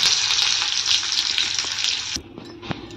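Cumin seeds and chopped onion sizzle steadily in a hot pan for dal, a dense hissing fry that runs loud for about two seconds and then drops to a quieter crackle with a single clink near the end.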